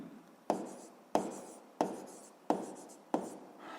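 Pen strokes write out a physics equation, five distinct scratchy bursts in a regular rhythm, close and fairly quiet, each fading before the next begins.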